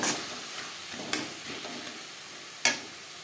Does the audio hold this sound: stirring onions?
yes